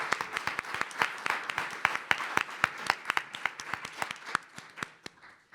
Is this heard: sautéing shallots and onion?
no